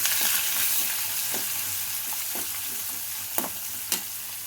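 Steady crackling sizzle of salted onions frying in oil with green chillies and ginger, with occasional spoon scrapes and stirring clicks, close up and alone without voices.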